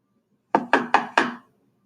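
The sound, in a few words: knocking on a gate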